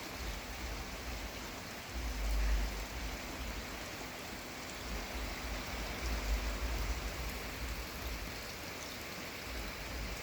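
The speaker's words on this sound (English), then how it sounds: "It's raining." Rain falls outdoors as a soft, continuous wash of hiss with no pauses, quiet and even throughout, with no voices.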